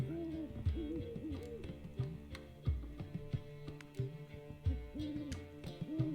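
An owl in The Witcher video game gives repeated soft, low hoots in a steady rhythm, with faint ticking clicks mixed in and no talk.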